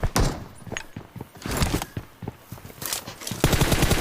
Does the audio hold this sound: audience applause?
no